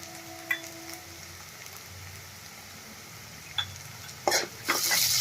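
Finely chopped capsicum being stirred and mixed in a pan for homemade pasta, with grated ginger already in; a quiet, steady sizzle broken by a few short scraping stirs, building to louder spoon scrapes near the end.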